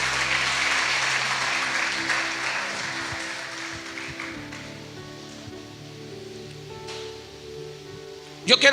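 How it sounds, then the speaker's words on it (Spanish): A church congregation applauds during a revival night service, a dense wash of clapping that slowly thins and fades, with a steady musical tone lingering underneath and a sharp burst near the end. "Dele un aplauso al Señor."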